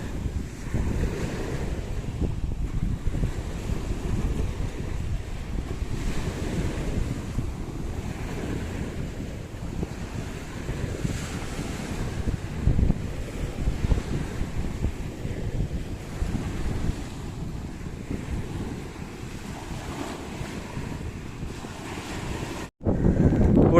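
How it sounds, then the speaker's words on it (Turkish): Strong wind roars steadily into the microphone at a sandy beach campsite by the sea in Ören, buffeting and rumbling low throughout, with surf-like gusts rising and falling and no voices. "Burada şimdi aşırı rüzgar çıktı."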